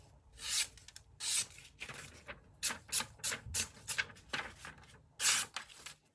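A freshly sharpened knife slices through a small piece of paper in a series of short, crisp swishing cuts, about a dozen bursts spaced unevenly, close and fairly clear with no talk.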